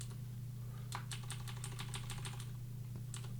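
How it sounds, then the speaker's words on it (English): A rapid burst of clicking from computer input buttons, a dozen or so quick crisp clicks in an irregular run, close and clear over a steady low electrical hum, then a brief second flurry at the end. "Manic button clicking"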